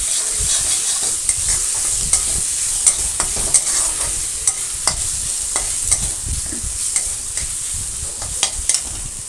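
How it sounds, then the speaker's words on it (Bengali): Ginger garlic paste stirred into browned onions frying in a pan for a jackfruit and potato curry, with a steady close sizzle broken by repeated scraping clicks of the spoon throughout. "প্রথমে আমি দিয়ে দিচ্ছি আদা রসুনের পেস্ট, দিয়ে একটু নেড়ে নেবো যাতে কাঁচা গন্ধটা চলে যায়।"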